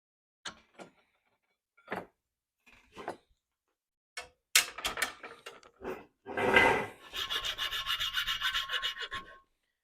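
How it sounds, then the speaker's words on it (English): Rasp filing the horn spout of a powder horn, a dry scraping rasp in short separate strokes at first, then a longer run of quick repeated strokes close by, with no talking. "we'll just hit this with a rasp again. And we'll just smooth out a lot of these cut marks"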